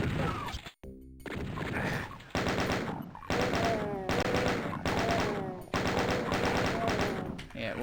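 Rapid bursts of chaingun fire from a Chaingunner enemy in the game Doom, repeated in several loud rattling volleys with short gaps, mixed with other game sounds and some talk.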